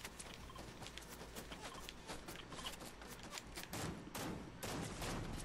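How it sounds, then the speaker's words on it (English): Gunfire in the Fortnite video game: dense, rapid volleys of shots crackle almost without a break, loud and continuous, with heavier bursts toward the end. "I heard those shots."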